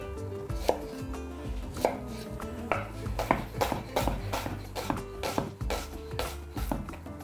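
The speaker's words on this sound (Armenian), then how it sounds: "Կտրատում ենք մանր" A small onion being finely chopped with a knife on a board, a quick, uneven series of close, sharp chopping knocks with faint kitchen background noise and no talk.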